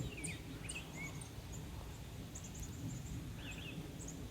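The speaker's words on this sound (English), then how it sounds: "Hummingbirds, so much bird life. Just listen to them." Small birds chirping and calling in a wild garden with a pond on a summer morning, scattered short tweets over a steady low rumble of background noise, fairly faint and distant.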